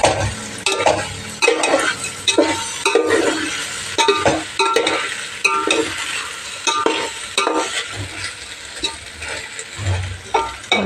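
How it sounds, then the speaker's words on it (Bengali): Dal for khichuri is stirred in a pot over heat, with rhythmic scraping strokes repeating every second or so over a soft, continuous sizzle. "এবার ডাউলটা একসাথে ঢেকে দেবো এবার একটু নেড়ে নেবো ভালো"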